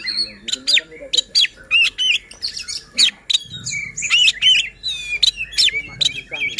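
Oriental magpie-robin (kacer) sings a loud, close run of varied chirps, whistles and harsh squawky notes in quick bursts, with a low rumble of background noise in the second half.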